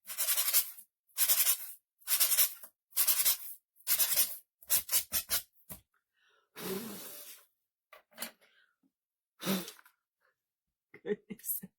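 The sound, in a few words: sanding wooden ornaments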